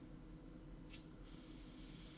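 An airbrush or spray can hisses colour onto a Wurmspat miniature model, one short burst followed by a longer steady spray, close and fairly quiet, with no voices.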